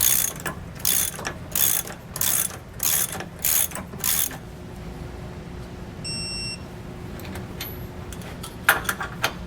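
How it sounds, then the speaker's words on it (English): A 3/4 inch socket ratchets quickly on sway bar bolts of a Roadmaster rear anti-sway bar on a 2021 Thor Hurricane motorhome, several rapid clicking bursts close up, then quieter handling and a brief electronic beep. "I've got a 3/4 inch wrench and a 3/4 inch socket. And we'll snug these up"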